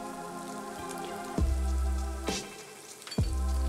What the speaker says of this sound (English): We need to fry the onions till they start changing color.